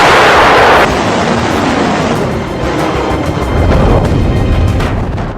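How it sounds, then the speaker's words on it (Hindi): An American howitzer fires shells, a heavy booming blast opening loud and broad, then rolling into a long rumbling roar and a second surge of low thunder, with no voices. "तोप से निकले गोले सीधे जाकर निशाने पर लग जाते हैं।"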